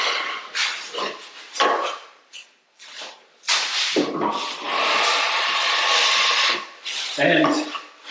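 A trowel spreads material with repeated scraping strokes, close and distinct. A person talks over parts of the spreading.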